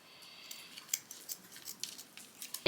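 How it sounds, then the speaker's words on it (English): Scissors snip through ribbon to cut angled bow tails for a bee craft, a quiet series of several crisp, close cuts with a louder snap at the end, no talking. "Take my scissors and I'm gonna cut little bow tails."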